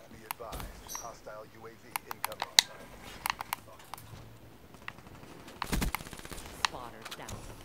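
Shotgun blasts and other gunfire crack in the video game Black Ops 3, coming as scattered sharp bursts of varying loudness, with a heavier blast near the start and another later, mixed with game noise and a voice talking.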